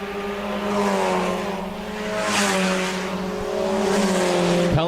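Stock cars race around the Park Jefferson Speedway track, a loud, sustained pack of engines droning and rising as cars slide and skid through the turns, with a brief sharp knock near the end.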